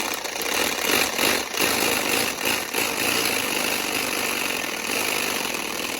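A homemade paint can shaker, built in minutes from scrap metal and a Sawzall blade, rattles a paint can with a loud, steady mechanical buzz that runs unbroken throughout, with only brief dips.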